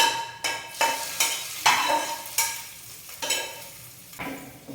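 Roasted lentils crackle and sizzle in a hot tempering for coconut chutney, with a spoon stirring in regular strokes that give rhythmic rising swishes over a steady frying hiss, close up and without speech.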